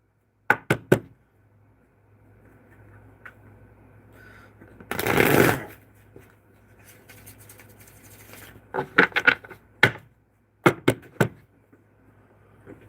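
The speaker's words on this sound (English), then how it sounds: "One more shuffle." Tarot cards are shuffled in short, crisp riffling bursts: a few quick flicks, a longer rustling shuffle in the middle, then more sharp taps and snaps near the microphone, with quiet stretches between and no speech.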